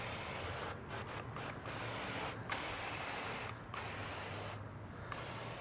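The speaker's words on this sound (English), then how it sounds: "I spray it everywhere I can" Bursts of fine misting from a pump sprayer laying diluted D100 detailer onto a truck, several short spray pulses with brief gaps against steady background noise.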